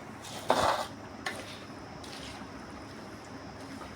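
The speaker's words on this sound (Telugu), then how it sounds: "రెండు 3 నిమిషాలు కలుపుతూనే ఉండాలి." A spoon stirs a mango pickle mixture in a pan, a scraping clink near the start and softer moist stirring after, close up over steady background noise with no talk.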